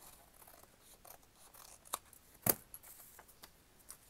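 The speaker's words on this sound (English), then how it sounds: "And then we'll cut this off here." Scissors snip through journal paper in a quiet room, with a few soft rustles and one crisp, close cut standing out above faint handling noises.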